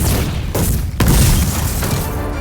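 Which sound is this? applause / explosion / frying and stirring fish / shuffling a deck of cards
explosion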